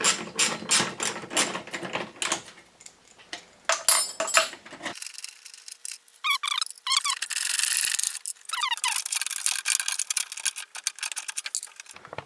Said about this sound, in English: I'm going to remove the intake, which has a couple 10s holding it in